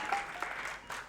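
A television studio audience applauds a musician, with brief, soft clapping that swells once before fading.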